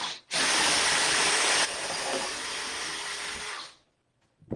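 A power drill bores a big hole through a wooden fall decor piece to fit thick jute, giving a loud, steady broadband whir that runs about three seconds and then cuts off.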